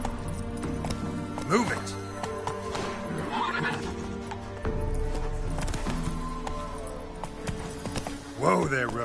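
Roach the horse in The Witcher 3, with hoofbeats clip-clopping and a couple of whinnies over a game soundscape, while someone speaks briefly.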